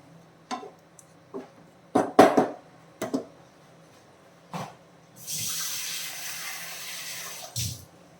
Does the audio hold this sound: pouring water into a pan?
yes